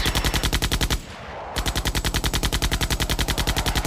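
Rapid, loud bursts of machine-gun fire from naval guns and batteries in a comic dub rattle in a steady rhythm, with one short gap before the shots resume.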